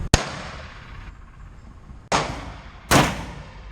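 Sharp gunshots from a Glock G31 pistol fitted in a CAA MCK carbine kit, three loud close reports spaced apart, the first right at the start and two more about a second apart later on.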